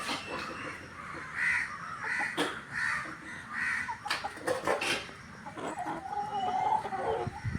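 Chickens cluck and squawk in a run of repeated short calls, fairly close, with scattered sharper cries among them.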